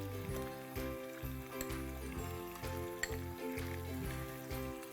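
Ginger garlic paste sizzling in a hot pan with mutton for a shorba broth, a steady soft crackling fry with faint clinks of stirring, fairly quiet and without talk.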